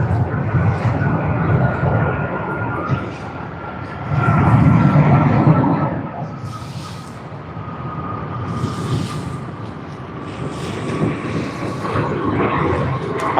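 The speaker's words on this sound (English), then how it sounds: "We have on screen QF64 from Johannesburg on the Airbus A380. And there you are. We have the touchdown." A Qantas Airbus A380 arriving from Johannesburg touches down at Sydney Airport, a steady broad roar of engines and rushing air with a brief louder swell as the wheels meet the runway, heard from a distance.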